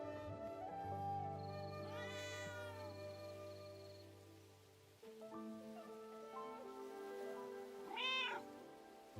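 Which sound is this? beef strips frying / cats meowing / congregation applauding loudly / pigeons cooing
cats meowing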